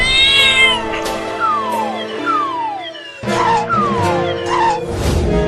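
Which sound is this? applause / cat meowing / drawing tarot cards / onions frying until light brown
cat meowing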